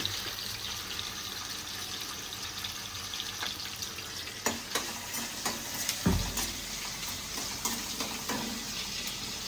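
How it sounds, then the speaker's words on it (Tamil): Small onions and fennel seeds sautéing in a pan for Madurai-style mutton kulambu: a soft, steady sizzle with occasional louder stirring scrapes and clinks, no talking. "இப்போ சின்ன வெங்காயம் போட்டு வதக்கிட்டு இருக்காங்க அம்மா"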